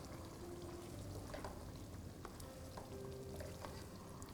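Tomato puree being stirred into cooked masala in a pan with released oil, a steady soft sizzle with faint scraping and bubbling throughout.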